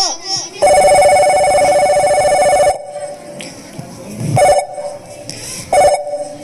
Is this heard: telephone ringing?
yes